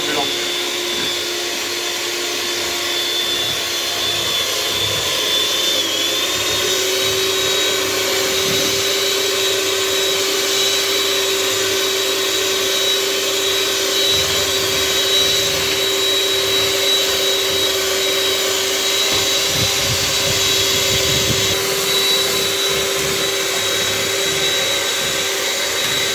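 An electric mixer whisks meringue for a Norwegian omelette, a steady loud motor whine that holds for the whole stretch and steps slightly higher in pitch early on as the speed goes up.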